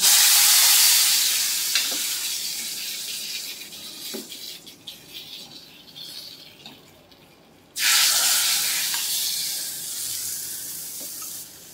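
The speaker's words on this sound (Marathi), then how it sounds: "फोडणी देणार आहे." Loud sizzling crackle of a spice tempering hitting hot oil for a raw mango kadhi, fading gradually, then a second burst of sizzle that slowly settles, with faint clinks in between.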